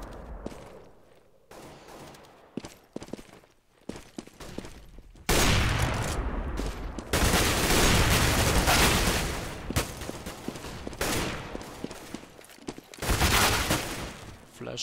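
Rapid bursts of AK rifle fire in a Counter-Strike match on the Inferno map, dense and loud through the middle and end, with commentary speech faintly underneath at times.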